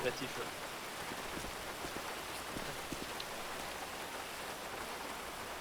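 Steady rain pattering on a surface, a dense even hiss with scattered drops, continuous throughout.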